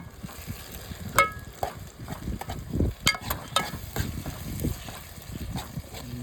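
Tomato, onion and green chilli sautéing in a pan for dry fish sambal, with soft sizzling under irregular scraping and stirring clatters from a utensil, close and moderately loud.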